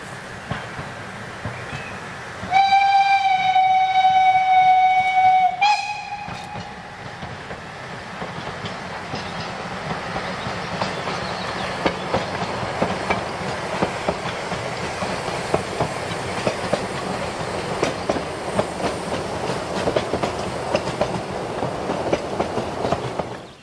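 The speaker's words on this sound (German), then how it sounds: "Als DSTG 54211 kurz vor 19 Uhr am Haltepunkt Wildbach vorbeirauscht," Freight train DSTG 54211 rushes past Wildbach halt near 7 pm. A loud two-tone horn blast opens, then a long steady rumble and rhythmic clatter of wagons rolls by close at hand, with no talk.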